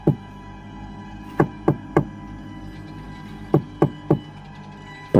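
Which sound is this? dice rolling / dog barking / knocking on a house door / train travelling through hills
knocking on a house door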